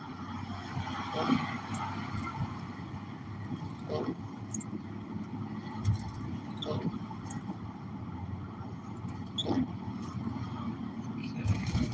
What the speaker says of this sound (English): But there's a ton of traffic.